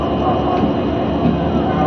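A train stands on the tracks, a dense, steady low rumble of engine and rail noise up close with no distinct bangs, while a voice talks over it.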